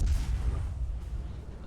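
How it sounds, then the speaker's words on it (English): A warship's main guns firing in World of Warships, a deep rumbling boom that fills the clip and fades slowly as a long low roll, with no voices. "Again, that gun sound you hear, that's me."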